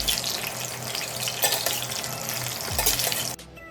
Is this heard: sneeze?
no